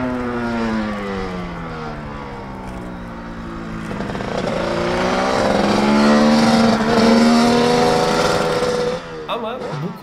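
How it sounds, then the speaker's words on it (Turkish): A Honda two-stroke V3 motorcycle engine with an electric compressor runs steadily with a buzzing, rising and falling tone that swells louder midway, then drops off near the end. "Sesleri dinlediğiniz zaman zaten o iki zamanlı motoru alıyorsunuz. Dızır dızır gidiyor."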